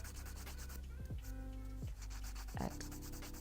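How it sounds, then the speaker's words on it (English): A buffing block rubs over dip acrylic nails in a few short, close, dry scuffing strokes, quiet and alone. "We're just going to be buffing it with a buffing block."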